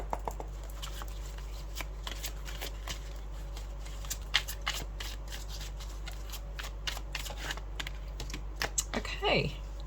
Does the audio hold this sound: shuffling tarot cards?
yes